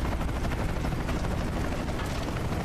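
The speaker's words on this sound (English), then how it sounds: "There's the chopper." A helicopter in the video game Gears of War 3 produces a dense, steady rotor rumble that stays loud and unbroken throughout, with a rough roar filling the low end and no talking.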